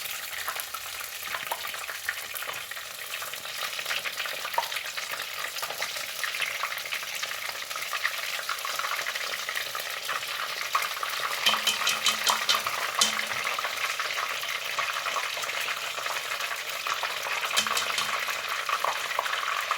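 Tempura pieces frying in hot oil, a dense steady sizzle with occasional light clicks of chopsticks turning them, close and continuous with no talk.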